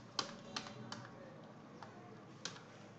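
Typing on a computer keyboard, heard as a few sparse, separate key taps spread over a steady low background hiss, fairly quiet and with no talking.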